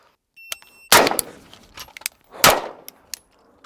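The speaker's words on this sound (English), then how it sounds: "We're shooting at the 10-yard target." A Staccato C2 pistol fires two loud, close shots at a 10-yard target, about a second and a half apart, with faint metallic clinks around them and no speech.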